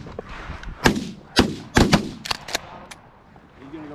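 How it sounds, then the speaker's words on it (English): Shotgun blasts ring out at birds during a hunt in a chopped corn field, several sharp close reports in quick succession with short echoing tails, and voices call out faintly around them. "Shoot that bird!"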